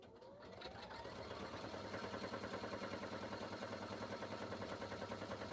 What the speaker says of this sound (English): it's just going to stitch a upside down U because it's going to stitch the sides of the pockets and then the bottom